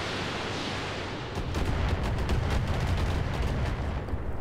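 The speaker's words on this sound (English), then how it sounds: "Yeah, here comes the missiles." Missiles launch and burst in the mech combat game Roguetech, a dense rumbling barrage of rapid explosive thuds that swells after a brief lull and rolls on continuously, loud and close, with no talking.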